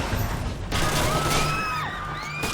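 Dense, sustained gunfire in Splinter Cell: Conviction, with heavy crashing bursts, metallic clatter and whistling game effects running loud and close throughout.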